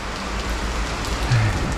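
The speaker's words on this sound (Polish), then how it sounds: "Tu tam pada deszcz." Steady rain falls close by during truck loading in Amorebieta, a constant hiss of drops on surfaces with no voices and no breaks.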